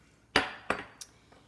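Three or four separate clear glass clinks ring out at steady intervals from tapping drinking glasses of the same shape filled to different water levels, each note ringing briefly and fading, with no voices.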